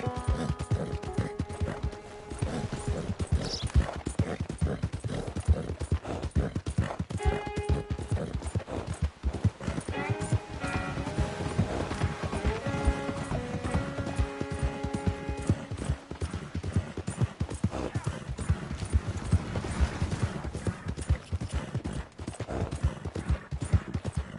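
Rapid hoofbeats clatter steadily for a long stretch in Red Dead Redemption 2, mixed with a musical backdrop and occasional faint whinnies, sounding like galloping in a game.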